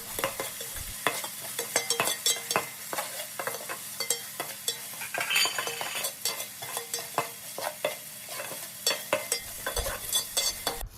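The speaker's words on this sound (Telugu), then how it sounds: "ఇప్పుడు కొంచెం అల్లం వెల్లుల్లి పేస్ట్ వేసుకొని పచ్చివాసన పోయే వరకు వేగించుకోవాలి" Onions fry with ginger garlic paste in a pan for egg biryani, giving a steady sizzle broken by frequent sharp scrapes and clinks of a spoon stirring, close up and without talk.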